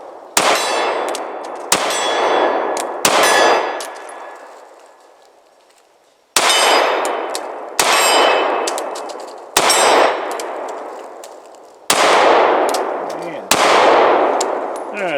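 A CZ P10c pistol fires shots at steel targets, eight sharp loud reports spaced about every one to two seconds, each followed by a ringing metallic clang that fades out.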